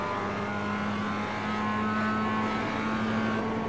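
A sim-racing car engine at Suzuka drones steadily at a constant pitch through the Degner curves, a smooth mechanical hum with no talking, as if cruising off the throttle.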